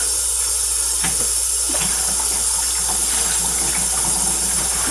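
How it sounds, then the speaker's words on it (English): Water running from a kitchen tap into a sink, a steady broadband hiss lasting throughout with a few faint clinks, fairly close and with no talking. "I'm wasting water everywhere, y'all."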